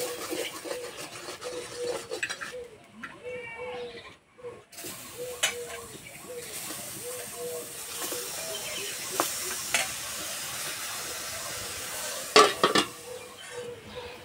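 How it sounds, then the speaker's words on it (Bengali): Eggplant slices dry-roast in a pan without oil, giving a soft crackle and sizzle while a utensil scrapes and clinks against the pan at close range, with a few louder knocks near the end. "বাকি বেগুনগুলো একইভাবে সেঁকে নেব।"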